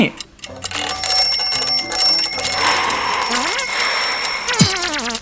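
A rapid electronic alarm clock ringing continuously in the video game Chuchel, loud and close, with game-like tones and a few sliding beeps layered over it.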